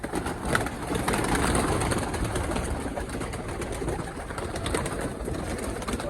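Many pet pigeons coo together in a dense, steady murmur, with wing flutters and a busy outdoor hum running throughout.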